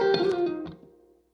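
A brief blues shuffle lick in C on electric guitar, a few distorted notes ringing out close and then fading away.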